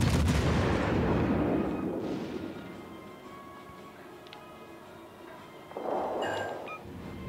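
Battleship main guns firing volleys in World of Warships: Legends, a loud booming salvo opening then long rumbling decay, followed by a second heavier blast near the end.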